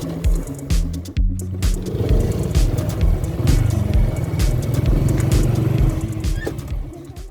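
A motorcycle engine runs close by outdoors, a loud steady throbbing drone with gear changes and throttle swells, the rider apparently travelling toward a cave dwelling; the engine cuts briefly near the start then carries on.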